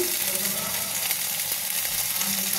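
Cumin paste and chili paste frying in a pan over onion and ginger give a steady, close, continuous sizzle with faint crackles and no talking.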